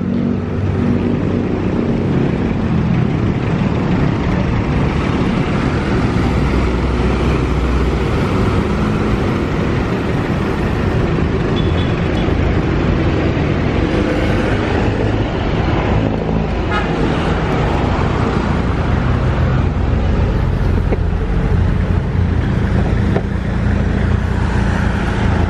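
A PHDM B13 car on the road, engine running steadily up close with surrounding traffic noise and a horn toot, a voice briefly audible.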